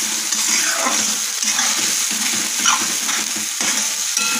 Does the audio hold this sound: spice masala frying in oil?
yes